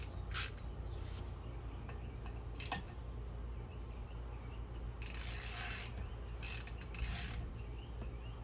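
A ratchet fitted with a 1/2 inch socket works on the bolts of a boat's water pump, giving a few short, faint mechanical bursts of clicking spread across a quiet, steady background.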